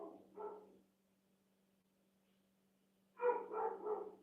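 A dog barks twice, close by: one short bark at the start, then after a quiet pause filled only by a low hum, a longer, louder bark or howl near the end.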